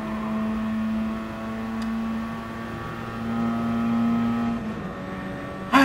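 A Mazda RX-7 GT-X (FC) from 1990, rotary Wankel engine, races in Gran Turismo Sport with a steady, loud droning hum that shifts pitch slightly as it holds speed, ending with a brief bump.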